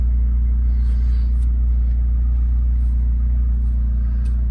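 A 2018 Abarth 595 Trofeo with 160 bhp and a five-speed manual idles with a deep, steady engine rumble, loud and close throughout with no obvious revving.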